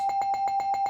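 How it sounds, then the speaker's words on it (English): A bell rings in a rapid, even series of about seven bright, metallic strikes, each with a clear sustained tone, loud and close. "I see Mandy Rose, I ring the bell."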